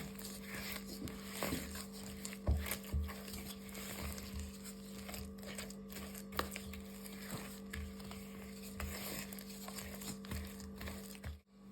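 A spatula stirs cookie dough mixed with a little baking powder in a bowl, giving soft, rhythmic scraping taps at a steady pace, faint and close against a constant low electrical hum, with no voices.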